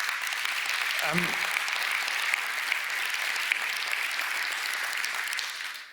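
Sustained audience applause at a policy conference, an even wash of many hands clapping at moderate level, with a brief low voice near the start, before fading at the end.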